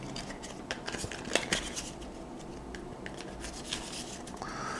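Papery rustling and quick riffling snaps of Valley of the Kings card game cards being shuffled, close up, with irregular bursts and no voices.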